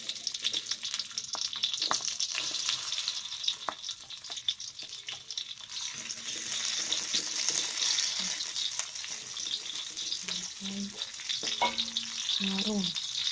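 Bean sprouts, oncom and tuna are stir-fried in hot oil, giving a steady loud sizzle with scraping stirs and occasional clinks throughout, no talk.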